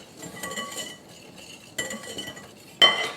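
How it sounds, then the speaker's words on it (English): A whisk clinks against a bowl while mixing dry baking ingredients such as baking soda and salt, producing bursts of metallic rattling in two rounds and ending with a sharper clang, close up and without talking. "we need to whisk these dry ingredients together"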